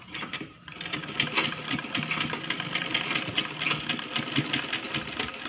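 A sewing machine runs a straight seam on a child's lehenga choli, a close, steady rattling whir that starts after a brief pause and continues evenly to the end.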